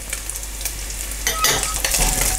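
Smoky streaky bacon rashers and garlic frying in a pan, a close crackling sizzle that grows louder and brighter partway through as the garlic goes in, with bursts of spitting fat and no speech.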